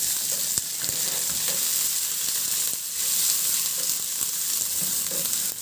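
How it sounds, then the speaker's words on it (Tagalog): Garlic, then onion, sautéing in hot cooking oil in a pan, a steady close sizzle with occasional stirring clicks and scrapes, no voices. "Sa disim na kawali, nagpainit na rin ako ng mantika at igisa ko yung bawang. Maglagay din ako ng sibuyas."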